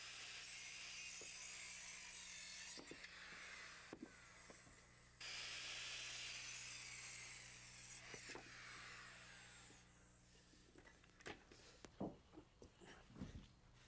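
A saw angled at 18.5 degrees cuts wooden wall studs and cripples to length for a rake wall, with a long, bright whirring cut followed by scattered knocks and clatter of lumber nearby.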